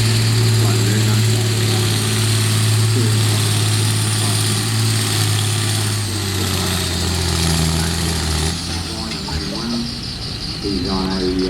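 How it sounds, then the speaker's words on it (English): A 1953 John Deere Super BMD Farmer tractor, 50 horsepower, runs with a steady loud engine drone at a field days event, continuous and close throughout. "He's on a John Deere Super BMD Farmer, 1953 model, 50 horsepower, owned by Roger Benz."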